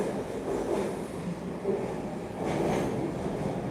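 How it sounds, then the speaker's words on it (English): A Toronto TTC subway train rumbles into a station, a low, steady roar of wheels and motors that swells as it draws nearer. "There's another train arriving."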